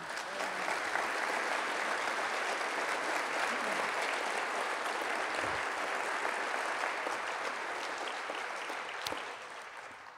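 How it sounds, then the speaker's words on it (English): Sustained applause from a large audience at a civic ideas festival talk in Madison, Wisconsin, an even, continuous roar of clapping for about ten seconds with one sharp thump near the end. "I know you just gave him applause"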